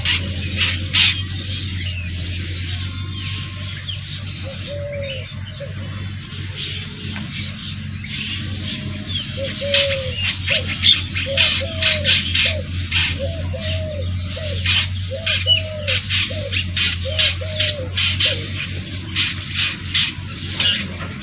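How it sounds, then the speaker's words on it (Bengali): Birds chirp and doves coo repeatedly over open, harvested paddy fields near a wetland, the soft coos recurring in a steady rhythm under constant twittering and a low background hum. "কিচিরমিচির শব্দ"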